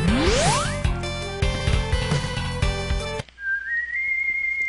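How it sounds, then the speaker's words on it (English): Proto Man's signature whistle from the video game Mega Man 7 opens with a rising sweep, then runs through a clear, loud electronic whistled melody over chiptune backing before it cuts to a quieter passage. "Oh hey, it's a whistle."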